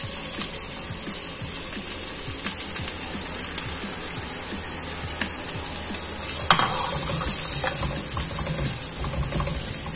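Steady sizzling of coarsely chopped onions frying in hot oil in a pot, a constant crackle with occasional stirring scrapes.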